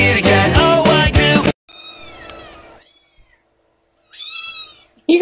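A bottle-fed kitten meows close up in two bursts of high, wavering cries, the first preceded by loud music that cuts off abruptly, with near-silence between the calls.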